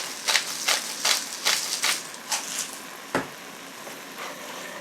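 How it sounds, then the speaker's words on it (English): Seasoned ground meat with garlic powder, black pepper and steak seasoning frying in a pan, a close sizzle punctuated by a rhythmic series of scraping, clattering stirs that fade toward the end. "Cook the meat until it's brown"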